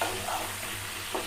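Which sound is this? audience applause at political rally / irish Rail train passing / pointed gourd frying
pointed gourd frying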